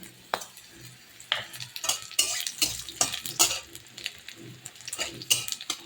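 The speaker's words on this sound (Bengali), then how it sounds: "এবার আমি দিয়ে দেবো কালো জিরে" Black cumin seeds crackle and sizzle in hot oil while a spoon scrapes and stirs against the pan in irregular bursts.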